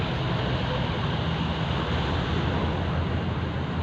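Continuous roar of sea waves and surf, loud and steady, with wind buffeting the microphone throughout.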